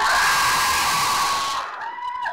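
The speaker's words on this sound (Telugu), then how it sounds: "అరుపులు కేకలు గోళ వన్స్ మోర్" A large crowd at the Eagle trailer launch event for Ravi Teja's film roars, shouting, whooping and screaming at once. The cheering is loud and continuous, then drops off sharply, leaving thinner scattered shouts.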